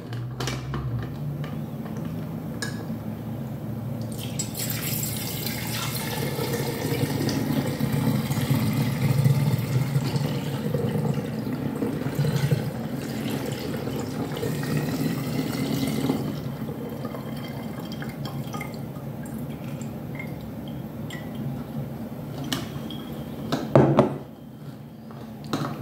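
Steady trickling and gurgling of homemade Greek limoncello being poured into a bottle for a long stretch, with a faint clink near the end.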